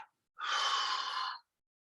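A single long, close exhale during a breathing exercise, a smooth breathy rush lasting about a second and set against silence.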